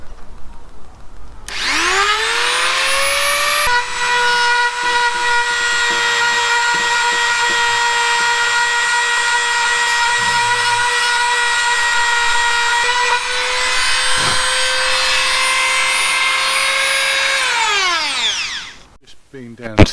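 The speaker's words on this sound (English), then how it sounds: "That cracks, so I'm just grinding those out" An angle grinder grinds out cracks in a boat's gelcoat, a loud high whine that spins up, runs steadily for about fifteen seconds with slight load changes, then winds down near the end.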